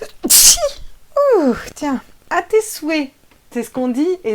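A single sharp, loud sneeze bursts out close up at the start of a French astrology reading about a full moon eclipse in Scorpio, and a voice goes on speaking right after it.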